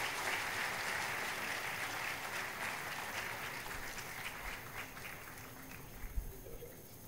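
Audience applause at a university convocation ceremony for meritorious students, a steady moderate wash of clapping throughout, fairly distant in a large hall.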